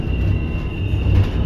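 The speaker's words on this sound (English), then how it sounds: "Whoa, that's a freight train." A freight train rolls past at Horseshoe Curve, heard as a steady low rumble of rail cars with a faint thin whine above it, with no voices.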